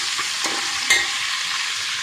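Ingredients sizzle in hot oil in a pan while being stirred for a palak paneer rice dish, a steady close crackle with a few soft scraping strokes of the spoon.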